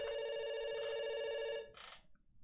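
Telephone ringing in an itch.io indie video game, a steady electronic ring tone held for about a second and a half before cutting off with a short click, heard alone.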